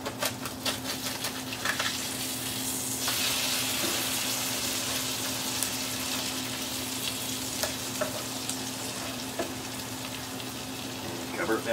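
Tilapia fillet frying over low heat in a pan covered with foil, a constant close sizzle with crackling and spitting, a low steady hum beneath, and a brief voice near the start.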